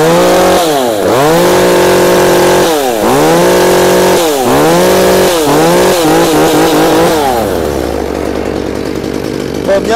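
An original Japanese-market chainsaw, a used machine up for sale, revs loud and close in a run of rising and falling bursts, then drops to a rough, steady idle.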